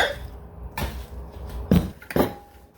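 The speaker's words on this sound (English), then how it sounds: "very gently, put my meatballs back in the crock pot and give it a good stir" Meatballs in gravy go back into a crock pot and get a gentle stir, heard as a few scattered clunks and scrapes of a spoon against the ceramic pot, close by with quiet pauses between.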